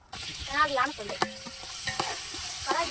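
Tomatoes and onions sizzle and crackle in a hot pan for chicken biryani, with a spoon scraping and clinking as it is stirred, close and fairly loud.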